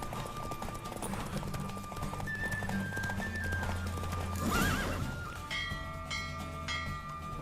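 Horse hooves pounding in a fast gallop during a race in the video game Witcher 3, with a neigh, background music and a few bell-like tones throughout.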